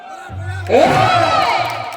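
A crowd at a devotional kirtan question-and-answer performance bursts into loud, dense applause and cheering, a sustained roar that rises suddenly and holds steady, with a low voice murmuring beneath it.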